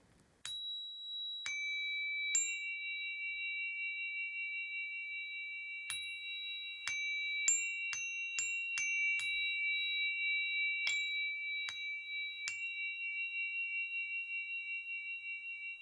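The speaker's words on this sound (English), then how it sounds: "So those are the primary chords you're going to get with a diatonic energy chime set." A diatonic energy chime set rings out chords, sharp metallic strikes one after another over about sixteen seconds, with long pure tones sustaining and overlapping in a clear, quiet room.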